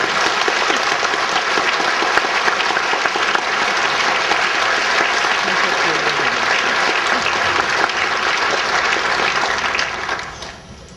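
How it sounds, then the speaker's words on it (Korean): A church congregation gives loud, sustained applause to welcome a pastor, dense clapping holding steady for about ten seconds before fading out at the end. "큰 박수로 축복해 주시고"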